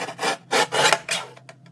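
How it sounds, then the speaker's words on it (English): A paper cutter drawn through paper in several short scraping strokes, close and fairly quiet, followed by a couple of faint clicks. "I'm going to take my cutter and I'm going to trim this"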